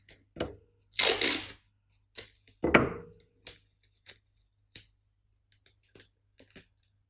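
Adhesive tape is handled and pressed around corners by hand, with a few short rips and several quieter sticky taps and clicks spaced apart in a quiet room.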